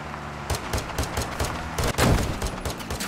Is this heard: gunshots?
yes